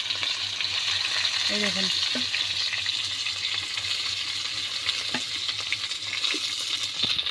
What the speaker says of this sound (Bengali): আমার মাছ ভাজা হয়ে গেছে, এখন আমি তুলে নিচ্ছি।